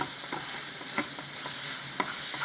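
Pastrami and chickpea mix with pepper stirred in a hot pan, a steady broad sizzle broken by a few sharp spoon scrapes against the pan, close and alone.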